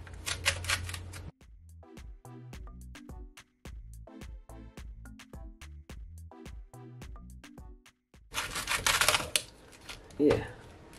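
Knife cutting through a cabbage on a board in rhythmic, evenly spaced crisp chops, close and clear, with a person talking briefly before and after.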